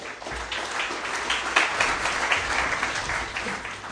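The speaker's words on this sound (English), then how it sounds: "a round of applause for Luke Johnson" An audience applauds Luke Johnson at a Penfolds Vintage Years evening, with steady broad clapping that runs for the full few seconds at a moderate, even level.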